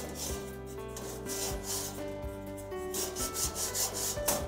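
A wire brush rasps in repeated back-and-forth strokes across the grids of a hot infrared grill, a close, steady scrubbing with metallic ringing tones underneath.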